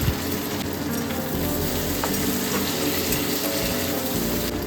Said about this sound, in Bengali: তারপর এর মধ্যে দিয়ে দিলাম টমেটো কুচি।